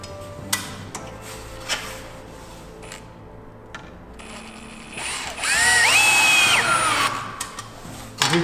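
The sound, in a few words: power drill driving a temporary screw into a garden shed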